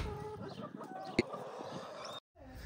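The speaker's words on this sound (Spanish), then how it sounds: "Las gallinas, pobrecita." Farm hens cluck softly in a quiet, close series of short calls, with one sharper squawk in the middle before the sound cuts out briefly and resumes faintly.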